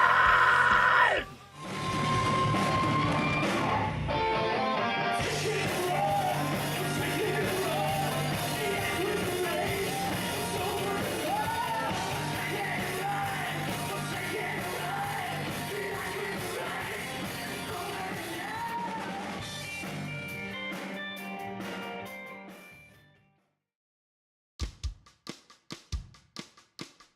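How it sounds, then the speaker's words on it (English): Harsh screamed vocals from a metal band's drummer ride over loud distorted guitars and pounding drums for most of the stretch, then the music cuts out into near silence before a few sharp bursts near the end. "It's the first song we've ever had any kind of screaming in it, courtesy of our drummer."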